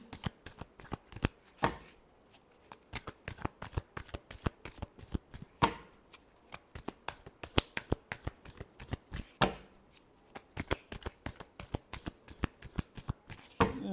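Tarot cards are shuffled by hand in a quiet room, producing a long run of rapid, crisp riffling clicks and flutters with brief pauses between bursts, close and fairly faint.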